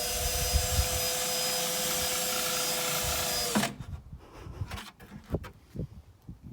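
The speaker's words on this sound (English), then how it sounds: "drill some holes in the bottom of these buckets" A power drill runs steadily as it bores holes through the bottoms of plastic garden buckets for watering fruit trees, a loud continuous whine that stops abruptly, followed by scattered clattering and handling sounds.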